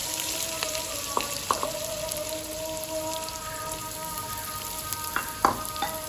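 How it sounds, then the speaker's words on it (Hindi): Chopped onions frying in hot ghee in a pan while making baingan bharta, a steady close crackling sizzle with scattered pops and faint metallic stirring clinks, no talking. "प्याज़ों को अच्छी तरह से सुनहरा ब्राउन करेंगे हम।"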